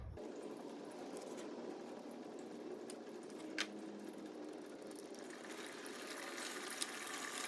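Coolant drains out of a VW-group 1.6 TDI diesel engine after its water pump is unbolted, a steady splashing trickle heard close up with no talking.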